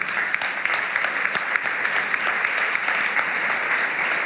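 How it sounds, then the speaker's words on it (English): A conference audience at a European interregional cooperation event gives the speakers a hearty round of applause, steady dense clapping with sharp individual claps standing out throughout. "could you give a very big round of applause to all of our fabulous speakers"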